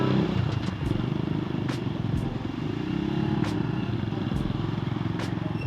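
A Rusi KRY 200 motorcycle engine rumbles steadily up close, with occasional clattering and scraping noises over the constant drone.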